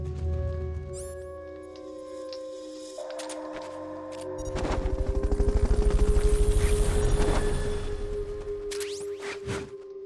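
Helicopter in the video game Metal Gear Solid: Peace Walker, its rotor beating as a loud continuous throb that swells to a peak midway and then eases slightly, with tonal game sound effects layered over it.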